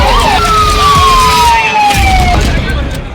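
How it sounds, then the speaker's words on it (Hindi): Long sweeping sirens from fire brigade engines echo across the Shalimar Extension area of Alwar as they respond to a blaze in a fourth-floor flat, loud and steady over street rumble that fades slightly at the end. "फायर ब्रिगेड्स के सायरन से गूंजता इलाका"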